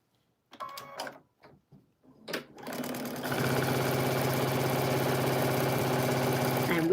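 A sewing machine starts with a few scattered clicks and short bursts, then settles into a loud, continuous, steady whir of stitching close by.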